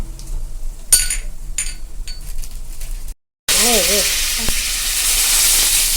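Cinnamon, fennel and star anise dropped into hot oil, giving a loud, steady sizzle and hiss close by, with a few utensil clinks beforehand and a brief voice partway through.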